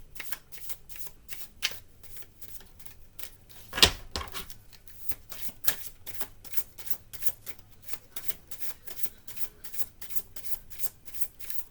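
A deck of tarot cards being shuffled: a rapid, regular run of crisp riffling flutters that continues steadily from start to finish, close and clear with no talking.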